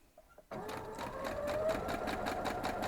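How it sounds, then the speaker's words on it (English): After a brief quiet moment, a sewing machine starts up and runs steadily as it joins quilt block pieces into half-square triangles, a close, even mechanical hum with rapid needle ticking. "we're just going to go sew these 2 up"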